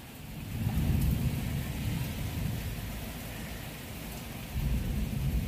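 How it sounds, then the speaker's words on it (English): Steady rain pours outside a home garden during a thunderstorm, with wind and low rumbling thunder from a distance, a constant loud wash with no voices. "The thunder's still probably a mile off."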